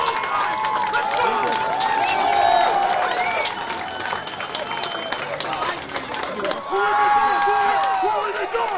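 A packed crowd in Chicago roars and cheers continuously during Julius Maddox's 800-pound world record bench press attempt, loud and sustained with shouting voices layered over the din and swells of louder cheering.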